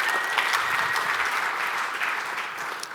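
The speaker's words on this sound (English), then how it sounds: "Let's get a clap for that." Audience applause at a charity fundraising talk in Dallas, a steady dense clapping that holds at an even level for about three seconds with no voices over it.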